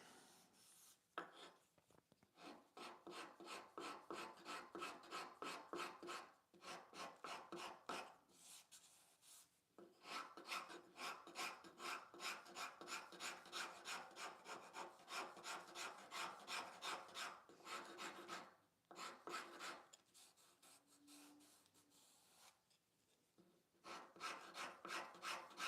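Fine wood rasp shaping a wooden furniture leg with rapid, steady back-and-forth strokes, working in long bursts separated by brief pauses, close and fairly loud with no talking.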